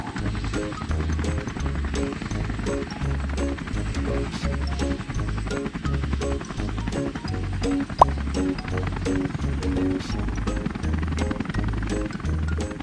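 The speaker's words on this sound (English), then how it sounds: "The helicopter is ready to take off." A cartoon helicopter takes off and lifts, its rotor pulsing in a steady rhythmic chop over upbeat children's music, loud and continuous throughout, with a single sharp knock partway through.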